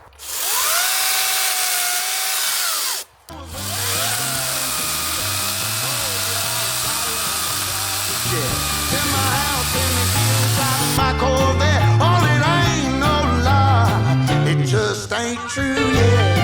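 A Dnipro-M DCS 201 BC cordless saw whines and buzzes through wood in long continuous runs, briefly cutting out once, then resuming with rougher, rattling strokes near the end.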